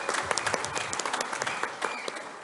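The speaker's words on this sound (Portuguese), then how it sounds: "salva de palmas para Olavo." A conference audience bursts into applause for Olavo de Carvalho, dense steady clapping from many hands filling the room at close range.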